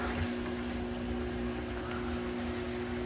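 A Liberty 1/3 HP water pump runs steadily nearby, a constant motor hum with a strong tonal drone held at an even level throughout, no other sounds standing out.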